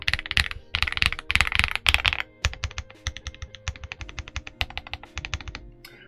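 Close, crisp typing on an Ajazz AK35i V3 Max full-size gasket-mount mechanical keyboard with a screen and knob: fast runs of clacky keystrokes in bursts, separated by brief pauses.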